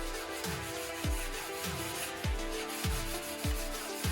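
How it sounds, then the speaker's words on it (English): Close, regular hand-sanding strokes rub against carbon fiber wheels made for an NSX trailer, about seven rhythmic scrapes in a steady back-and-forth pattern with no speech. "I'll just sand it down a little bit more and work my way up to 400."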